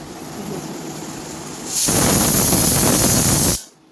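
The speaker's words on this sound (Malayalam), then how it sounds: "ഇപ്പോൾ 2 വിസിലായേ, നമുക്ക് ഗ്യാസ് ഓഫ് ചെയ്തിടാം." Quiet background gives way to a loud, rushing hiss of steam venting from a pressure cooker whistle on a gas stove, lasting about two seconds, then cutting off abruptly.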